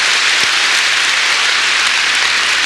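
A congregation claps together at a Sunday church service, a dense, loud and even wash of applause that runs unbroken for a few seconds with no voices over it.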